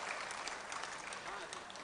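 Audience clapping at a Hindi comedy poetry performance held during a religious discourse gathering, a dense steady wash of many hands lasting the whole moment, fairly loud and close with no pauses.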